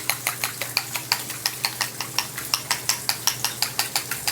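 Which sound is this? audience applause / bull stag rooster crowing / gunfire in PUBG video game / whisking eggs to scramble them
whisking eggs to scramble them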